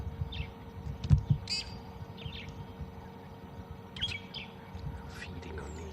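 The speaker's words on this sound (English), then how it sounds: "If you can hear those brown-headed parrots squawking" Brown-headed parrots squawk in short, sharp calls scattered across a misty morning in the bush, fairly distant, over a low ambient hum with a thump or two nearby.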